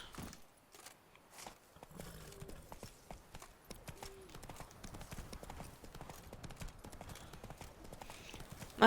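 Roach the horse in The Witcher 3 trotting along, a steady train of crisp, fairly quiet hoofbeats in regular rhythm, with faint ambient game sound beneath.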